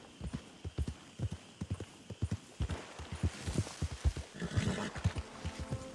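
Hooves of the horse Roach clip-clop in a steady, close walking rhythm across the ground in Red Dead Redemption 2, with a brief snort and shuffling mixed in toward the end.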